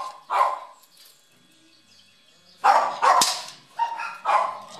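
A dog in its kennel barks in short bursts, one early yelp followed by a pause, then a rapid cluster of several loud barks close by.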